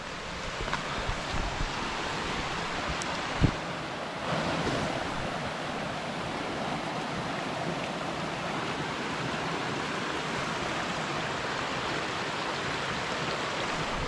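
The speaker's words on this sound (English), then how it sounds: "here we have already a small waterfall" Continuous rushing water noise, steady and broadband, like a small waterfall pouring nearby in Borșa, Romania, with a brief knock partway through.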